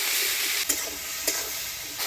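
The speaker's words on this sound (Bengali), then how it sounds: "লবণ দিয়ে নাড়াচাড়া করে নিলাম।" Vegetables with turmeric and salt stirred in hot oil, village-style Bengali cooking, make a soft, even sizzle punctuated by a couple of light spoon knocks, with no voices.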